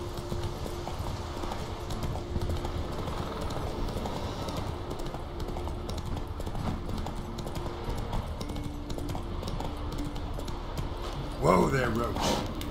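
Horse hooves clip-clop steadily in The Witcher 3 video game, a continuous rhythmic trotting under a busy game soundscape, with someone talking over it and a brief whinny-like sound near the end.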